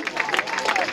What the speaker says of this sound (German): Gebt ihr doch mal einen Applaus hier.